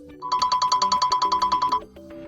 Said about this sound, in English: Here you can adjust the volume of ringtone.